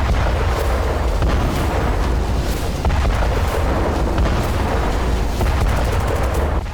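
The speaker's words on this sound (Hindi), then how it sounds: "ये फैब 500 बम का धमाका था।" Heavy, continuous rumbling blast from a FAB-500 bomb dropped by a Su-34 jet in the Krasnolimansk area of Ukraine, with dense low booms and repeated sharp cracks sustained loudly throughout, no voices.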